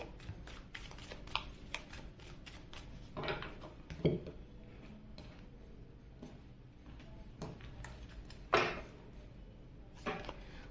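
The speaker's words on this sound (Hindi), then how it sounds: "अब हम इस साइड के लिए भी कार्ड शफल करेंगे" Tarot cards are shuffled in a low, faint, irregular patter of riffling and tapping, with occasional louder knocks against a surface over a steady background hum.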